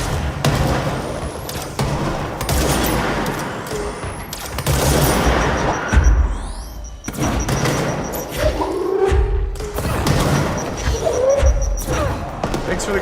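Grenades explode during a firefight in the video game Control, loud booming blasts and thuds mixed with gunfire and crashing debris, dense and continuous throughout with scattered impacts.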